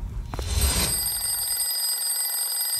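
A phone rings loudly and close, a bright electronic ringing tone that starts after a brief clash of noise and then holds steady to the end, with no talk.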